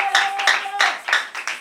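A church congregation claps in quick bursts during worship, with sharp, close hand claps in an uneven rhythm and a faint voice underneath.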